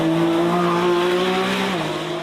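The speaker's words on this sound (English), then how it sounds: "take you on board the Lamborghini Revuelto, the first V12 plug-in hybrid" A Lamborghini Revuelto V12 plug-in hybrid on track at Vallelunga, a loud, close, sustained engine howl with a steady pitch that drops slightly near the end.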